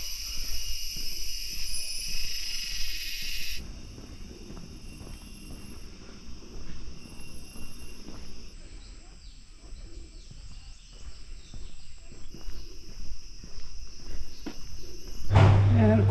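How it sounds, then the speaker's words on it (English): A steady high-pitched chorus of crickets chirps continuously in the background on Penang Hill, Malaysia, with a faint low hum and a louder burst near the end. "Let's see if you hear the crickets."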